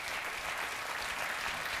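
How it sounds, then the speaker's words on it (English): A studio audience at a late-night talk show claps steadily, a brief dense burst of applause heard alone. "Now you're applauding."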